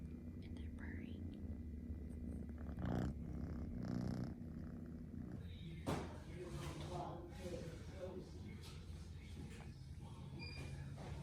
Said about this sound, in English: And they're purring.